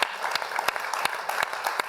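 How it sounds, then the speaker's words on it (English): Conference audience claps together in a lively, fairly close round of applause, with a few sharper individual claps standing out over the steady patter for about two seconds. "Let's give everybody from this session a huge round of applause"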